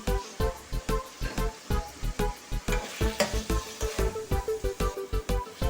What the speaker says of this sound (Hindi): प्याज शामिल करके हम 2 मिनट भूनेंगे ताकि प्याज जो है हमारी नरम हो जाए।